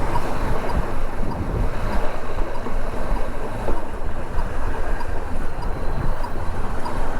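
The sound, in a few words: wind noise while riding a CB500X motorcycle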